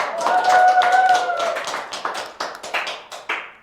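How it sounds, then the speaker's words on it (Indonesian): Applause from a crowd, dense clapping at first that thins into scattered, separate claps near the end, with a brief tone ringing early on. "Tepuk tangan buat kita semua."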